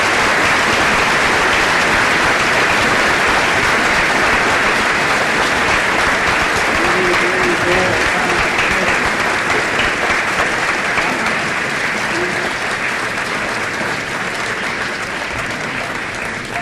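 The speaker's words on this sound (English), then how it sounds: "They give them all a round of applause." Loud, sustained applause fills the hall at the 1980 Arkansas State Fiddle Contest as contestants walk out, a dense, even roar of clapping that carries on without a break.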